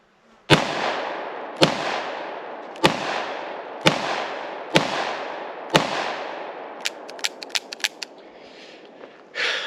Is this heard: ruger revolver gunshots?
yes